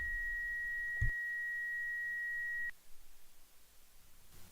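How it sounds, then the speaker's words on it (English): A single sustained electronic beep, a steady pure tone holding for about two seconds before cutting off, followed by quiet background. "I hear some kind of a beeping."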